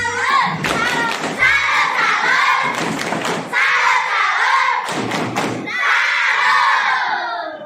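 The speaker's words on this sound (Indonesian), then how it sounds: "Kita beri tepuk salut untuk mereka." Children in a classroom give a rhythmic salute clap, sharp clap bursts alternating with loud chanted young voices, repeated in several close bursts.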